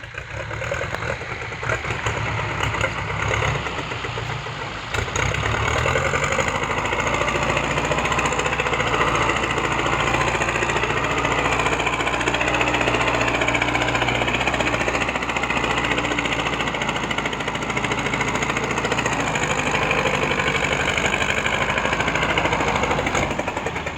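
A Ford 6610 tractor fitted as a grab loader works nearby loading cassava into a six-wheel truck, its diesel engine a loud, steady rattling drone that revs up and holds throughout.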